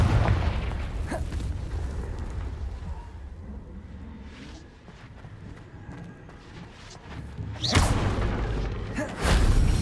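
Confringo spell explosions in Hogwarts Legacy, with booming bursts hitting near the start and two heavy blasts near the end, loud and close over a rumbling game soundscape.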